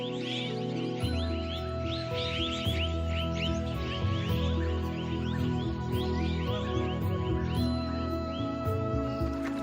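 Dense chorus of chirping and squawking bird calls, including red-breasted parakeets, over a constant steady hum, with overlapping tropical birds calling throughout in Thailand.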